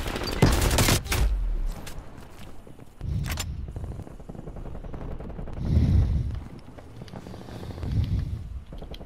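Gunfire in Call of Duty Cold War: an opening burst of rapid shots followed by sparser single reports, each answered by a low boom, moderately loud against a quieter background.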